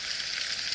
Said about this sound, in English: hopefully you can hear that sizzle just a little bit. That's the butter inside the aluminum foil with the potato.